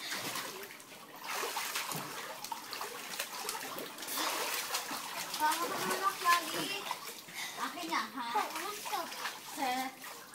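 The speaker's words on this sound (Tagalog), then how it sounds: "Huwag kayong magganyan. Baka tumasik dito ang tubig, Nika." Children splash water in a small mini pool at home, with busy, uneven splashes and trickles throughout while kids' voices chatter and call over the water.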